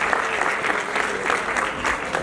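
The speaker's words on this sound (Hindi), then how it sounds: "एक बार ताली बजा दो" Audience applauding wrestlers, a steady wash of many hands clapping at moderate distance, continuous throughout with a faint murmur of voices.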